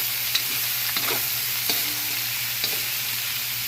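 Vegetables with papaya cook in coconut milk in a pan, a steady soft sizzle broken by a few light scraping stirs of a utensil, close and even, with no voices.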